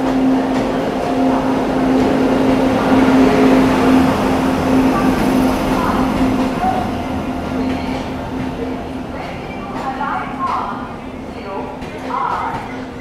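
Golden Temple Mail standing at a station during a five-minute halt, a loud steady rumble with a sustained hum, while people talk nearby.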